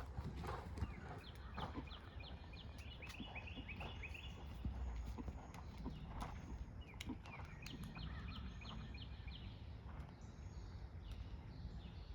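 Soft rhythmic hoofbeats of a horse cantering on an arena surface during a riding lesson, faint and distant amid outdoor ambience with occasional bird calls, without spoken words.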